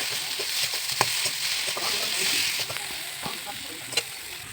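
Ginger, tomato, salt, turmeric, cumin and chilli fry in a pan with a steady crackling sizzle, punctuated by several brief clicks and scrapes of stirring.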